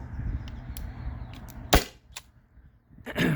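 A Byrna SD launcher fires an aluminum round through a chronograph: one sharp, loud crack near the middle, with a few softer clicks and handling noises before and after, and no talk.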